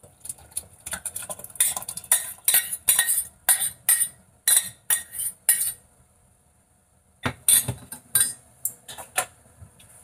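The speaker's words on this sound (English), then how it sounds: "Just give it a nice stir." A spoon stirs lemon rasam made with tomato and water in a metal pot, giving close, rhythmic scraping and clinking strokes in quick bursts, a short pause, then more stirring.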